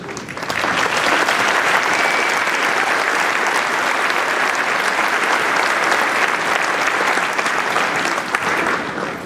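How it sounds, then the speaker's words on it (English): Sustained applause from a large crowd at a high school graduation ceremony, steady and loud throughout with dense, even clapping. "let's applaud the students, parents, and guardians."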